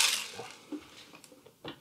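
Whole coffee beans tip out of a Fellow Ode espresso grinder in a quick rattling pour, followed by a few scattered light clicks as the last beans drop.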